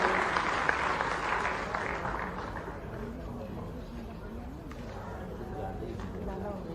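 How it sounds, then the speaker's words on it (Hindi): Hall audience at a book launch ceremony in Indore applauds to welcome the Chief Minister, a sustained, moderately distant patter of clapping that is strongest at the start and eases slightly, with voices faintly underneath. "एक बार जोरदार तालियों से स्वागत करें आदरणीय मुख्यमंत्री जी डॉक्टर मोहन यादव।"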